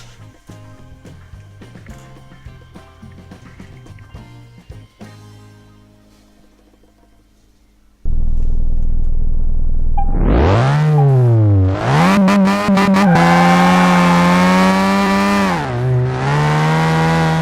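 A Mazda RX7 in the video game Car Mechanic Simulator 2018 starts with a quiet mechanical clatter, then its engine fires up loud and revs hard, climbing and dipping in pitch repeatedly, close and dominant.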